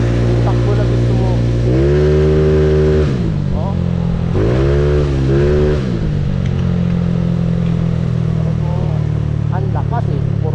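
A motorcycle engine idles close by, then revs hard twice in rising and falling surges before dropping back to a steady idle, while someone talks nearby.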